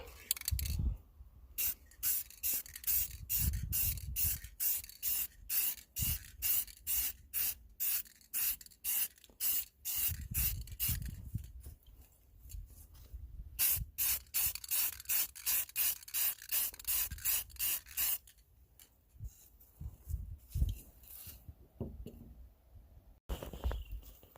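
Duplicolor color shift spray paint coats car dash trim in short, close hissing bursts. The bursts repeat rhythmically in two long runs separated by brief pauses, with no talking.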